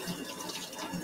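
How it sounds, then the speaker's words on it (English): Running tap water while a kitchen knife is rinsed: a steady, fairly soft splashing hiss, continuous and alone for about a second. "Rinse off my knife a little first here."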